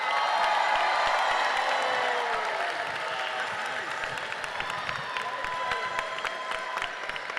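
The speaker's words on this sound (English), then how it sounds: "Give him another round of applause." Audience applause fills a graduation ceremony hall, a dense, sustained wash of many hands clapping with scattered cheers and whoops, steady and loud throughout.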